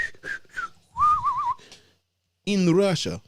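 A person whistles a wavering, warbling tune in short bursts between stretches of talk, loud and close, with a pause of silence before the voice returns.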